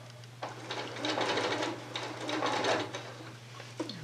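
A sewing machine piecing curved fabric strips for quilting runs in bursts of rapid, close stitching that start and stop over a low steady hum, with no talking.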